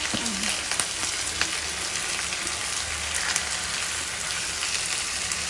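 Medium-large cut onions fry in a pan for paneer butter masala, giving a steady, close, dense sizzle that runs unbroken throughout with no voices.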